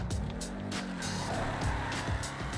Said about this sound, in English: I can even put my foot on the pedal a little bit, and boom, you're just going